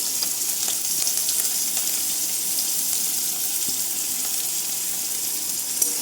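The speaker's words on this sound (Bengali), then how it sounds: "তেলের উপরে আমি পেঁয়াজ কুচো করে কেটে রেখেছি সেটা দিয়ে দিলাম" Chopped onion and green chili fry in oil in a kadai for homemade egg veg chow, a steady broadband sizzle with faint stirring scrapes, close and unbroken with no talk.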